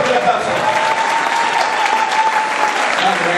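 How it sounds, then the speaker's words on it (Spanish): Loud, dense crowd applause after a live tango performance by dancers Deborah Mazza and Aníbal Castro, a steady close wash of many hands clapping with a faint sustained tone beneath. "fuerte aplauso"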